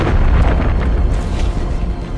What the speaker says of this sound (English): Hostile cruise missile. Almost had me.